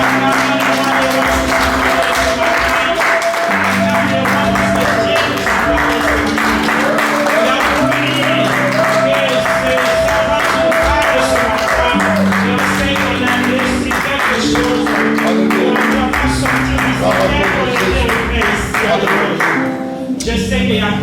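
A church congregation claps steadily in praise of the king through a worship service, rhythmic applause running continuously alongside singing voices and music.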